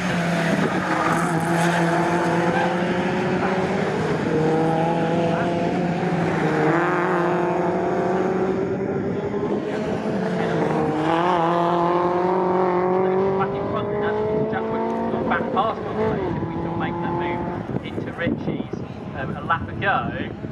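MG race cars, including a ZR and an F, race at Snetterton in an MG Owners Club championship, engines howling continuously through gear changes and rising revs, with a commentator talking over the loud track noise and wind.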